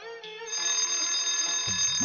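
An alarm clock rings in a loud, steady metallic peal that sounds close by and carries on unbroken. Low knocks come in near the end.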